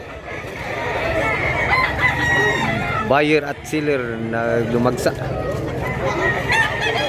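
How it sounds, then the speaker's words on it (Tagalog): Roosters crow and chickens cluck throughout a busy poultry market in Mantalungon, Cebu, with one loud nearby crow standing out midway over a steady crowd murmur while someone talks. "Dami ng manok na dumating ngayon mga idol."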